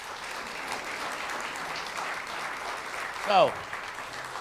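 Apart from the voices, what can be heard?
audience applause for the local newspaper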